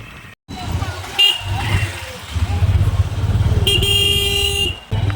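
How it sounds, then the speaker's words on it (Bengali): Motorbike ride along a road on the way to the Digha Jagannath temple, steady engine and road rumble running throughout with traffic noise and a horn toot partway, and a voice talking over it. "বেরিয়ে পড়েছি, এখন বাইকে করে যাচ্ছি।"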